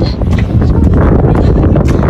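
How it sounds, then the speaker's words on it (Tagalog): Gusty wind blows across the microphone on a cliffside hiking trail at Congost de Mont-rebei, loud and buffeting throughout. "Oh, medyo mahangin na."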